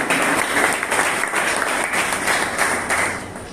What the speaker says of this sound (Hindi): बिग अप्लॉज, जोरदार ताली।